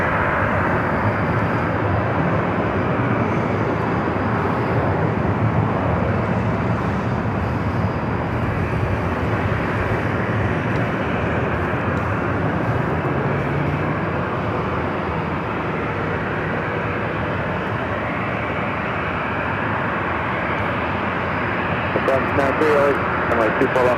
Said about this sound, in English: United Express, SkyWest Flight 5297 coming in from Sacramento, and E175LR, next arrival here on the north side.